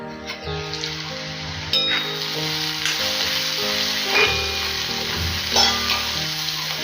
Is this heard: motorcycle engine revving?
no